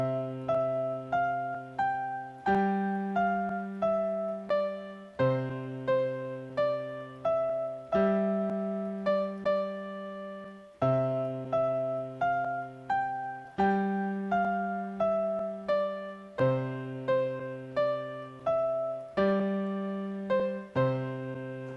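Ode to Joy on a keyboard, both hands together, with the melody over a bass line of low notes. Even, regular notes decay cleanly with no voices, the phrase repeating over about twenty seconds.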